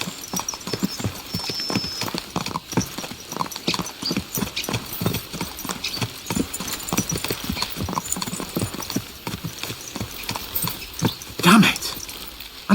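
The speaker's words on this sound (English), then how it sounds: "Let's really spur these horses on, eh?" Horses' hooves clip-clopping in a steady, rapid rhythm as riders travel in the medieval video game Kingdom Come Deliverance 2, close and clear over a quiet ambient background, with a brief louder thump near the end.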